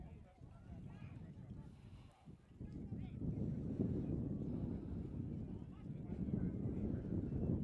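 Steady wind gusting across the microphone at an outdoor Pendleton vs Penn rugby match, a continuous low rushing roar that dips briefly near the start, then swells and holds, with a commentator talking over it.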